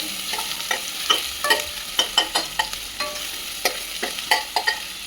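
Chopped onion sautéing in a pan is stirred repeatedly, with sharp scraping strokes at an irregular rhythm over a faint background sizzle, close and clear, with no voices.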